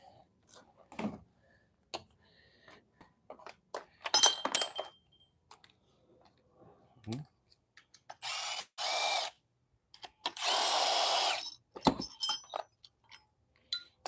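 A bolt is undone with a ratchet tool on a Ford Transit Custom during a wet cam belt replacement: scattered metallic clicks and clinks, then a few short bursts of rapid ratcheting, close and sparse against near silence.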